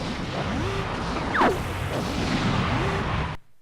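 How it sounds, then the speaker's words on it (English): A dense, rumbling explosion in the Nintendo 64 game Star Fox 64 fills the clip with a sharp whooshing burst midway over sustained roar and game music, then cuts abruptly to silence. "After the explosion, we see that James disappears"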